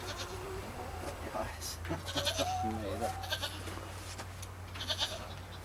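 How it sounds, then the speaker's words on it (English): Nigerian dwarf goats in a homestead pen bleat several times in wavering, nasal cries over a steady low hum, with background voices mixed in. "There's a white Nigerian dwarf goat."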